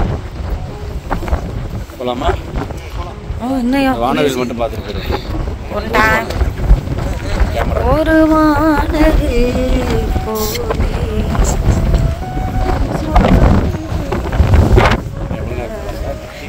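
Strong wind buffeting the microphone on Kayama beach, a loud continuous roar with surf in the background, while people talk over it.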